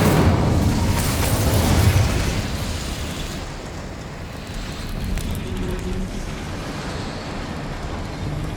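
Incendio fire spell in the Hogwarts Legacy video game, a loud fiery burst and roar that fades into a lingering crackling rumble, with no talk heard.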